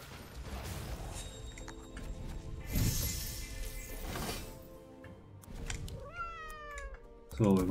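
A cat meows in the video game Legion TD 2, rising meow calls near the end over a busy mix of game sound effects and clatter, with speech running through much of it.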